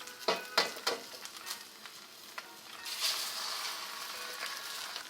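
An egg cracked into a hot wok for char kway teow sends up a burst of sizzling, with a few sharp taps and spatters first and then a steady frying hiss, close but fairly quiet.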